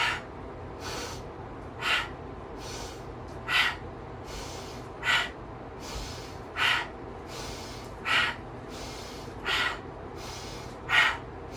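Slow, controlled breaths during a gentle mountain-climber style exercise, with about nine soft breathy inhales and exhales spaced roughly a second or so apart, close and fairly quiet.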